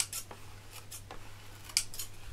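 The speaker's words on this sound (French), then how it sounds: "Je vais couper un peu sur les bords parce que ça me plaît pas." Scissors snip the edges of textured paper for a scrapbook page, a few crisp, close, quiet cuts spaced irregularly with faint pauses between them.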